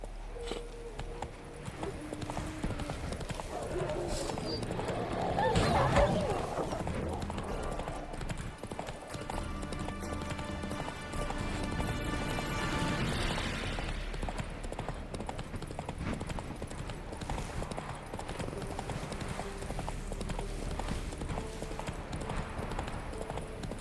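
Horse hooves clip-clop steadily through The Witcher 3 as the mount rides along, a continuous rhythmic patter over a dense bed of game music and ambience, with a brief swell of noise partway through.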